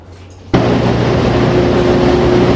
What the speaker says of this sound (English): That's the sound of one of the 3 generating plants on the FPSO vessel powered by crude and gas